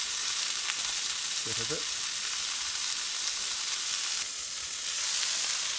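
Food fries steadily in a pan over an outdoor cooking setup during a New Zealand survival challenge, a constant loud sizzle and hiss throughout, with one brief spoken phrase near the start.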